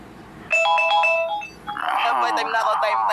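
A cellphone ringtone plays a bright electronic melody of sustained tones, then a voice talks over it as the ringtone continues, loud and close.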